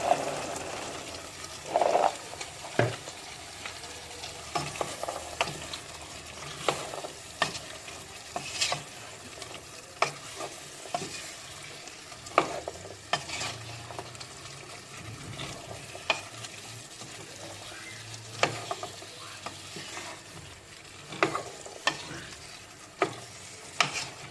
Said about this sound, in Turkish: İki dakika patateslerimizle beraber sotelenecek.